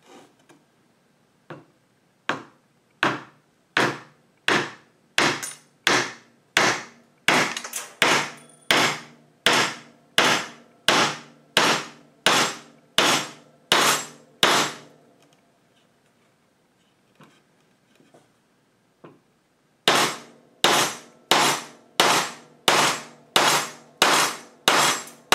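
A hammer drives nails through pre-drilled holes in salvaged wood, sharp ringing blows struck in a fast, steady rhythm of about thirty hits, then a pause and a few light taps before another quick run of strikes.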